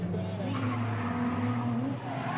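A drift car launches on a qualifying run at a grassroots drifting event, engine droning steadily with a sustained tire squeal from moderately far away, all under crowd and arena noise.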